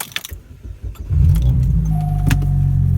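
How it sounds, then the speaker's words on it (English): A 2006 Chevy Cobalt SS cranks and catches, its engine settling into a steady, close idle after a second of key jingling and cabin shuffling, with a faint whine rising late. "let me start the car"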